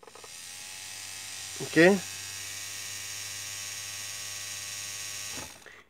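A homemade DIY tattoo machine motor powered by a 0.5 amp AC adaptor runs with a steady high-pitched electric whine and buzz for several seconds, with a brief spoken word near the start, before winding down at the end.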